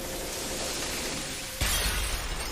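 A sudden loud glass-like shatter from an anime bursts in partway through, following a steady wash of noise and ringing on afterward.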